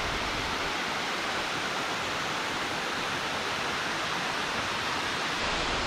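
A river pours over a cliff at Onikura Samata front falls in Kumano, Mie, making a steady, dense, loud rushing roar that holds unchanged throughout with no other sounds.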